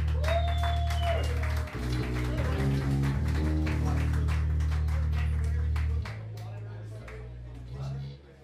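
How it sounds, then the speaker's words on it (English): Audience applause rises at a live punk concert, with scattered claps and cheers mixed with sustained amplifier hum and guitar tones. A voice speaks over it. "Big round of applause for Flo."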